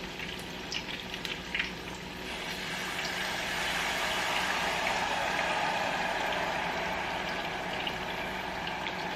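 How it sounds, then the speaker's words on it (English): A shot of Patron tequila hits a hot pan of chicken wings, setting off a steady, loud sizzle and bubbling hiss that swells after a couple of seconds and holds, with no voices. "I'm gonna turn up the heat just a little bit, and I'm going to throw in about a shot of Patron"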